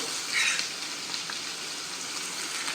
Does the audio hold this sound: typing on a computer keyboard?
no